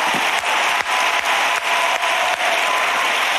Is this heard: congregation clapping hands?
yes